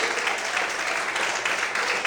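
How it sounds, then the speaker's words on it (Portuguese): Steady applause from a church congregation during a sermon, dense and sustained for a couple of seconds without a break. "Quem crê nesse Deus, aplauda e exalte ao nome dele nessa noite"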